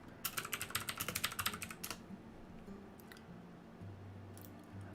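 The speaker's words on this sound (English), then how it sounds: "This is a loud mechanical keyboard." Rapid keystrokes on a loud mechanical keyboard clatter in a quick burst for about two seconds, then a few scattered clicks follow over a quiet room hum, close to the microphone.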